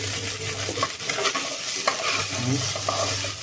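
Grated coconut frying in oil in a pan while being stirred: a loud, close sizzle with scraping and shuffling strokes of the spatula throughout.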